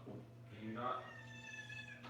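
A house cat gives a drawn-out meow near a door, a rising and falling tonal cry close by and moderately loud, with a person talking faintly around it.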